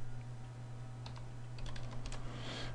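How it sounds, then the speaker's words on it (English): Typing on a computer keyboard while adding a copyright watermark in Photoshop: a few scattered key clicks, then a faster burst of taps near the end over a steady low hum. "We want to select our type tool and put the text of our choice."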